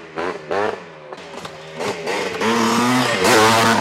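A Honda 250 Mugen motorcycle with a Wizard tune makes passes nearby, its two-stroke engine revving in rising bursts that build louder toward the end, with no talk over it.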